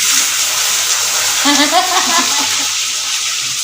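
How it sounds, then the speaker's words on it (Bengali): Eggplant pieces tipped into hot oil after the spice tempering for a Bengali hilsa curry, setting off a loud, close, bubbling sizzle that runs throughout while someone speaks briefly midway. "ফোড়ন হয়ে গেছে এবার বেগুন যাবে"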